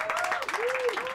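Brief burst of applause from a small audience aboard a streetcar during a live concert, with a voice speaking over the clapping.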